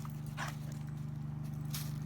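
A dog barks twice in a clip being played back, with short, faint yaps standing out above a steady low electrical hum.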